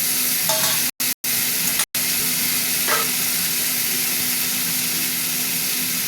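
Onions and tomatoes frying in a hot pan for a Bengali rohu fish curry, a steady loud sizzle with a couple of faint stirring scrapes and brief dropouts.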